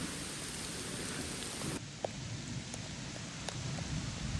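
Steady rain falls near a waterfall in Girona, Catalonia, a dense, even hiss of drops throughout with a few faint taps, close and continuous, with no voices.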